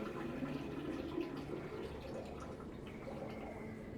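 Water pours steadily into a sink that is already full, a soft, continuous splashing and gurgling at low volume with no pauses.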